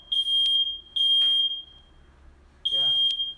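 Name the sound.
smoke alarm test beeping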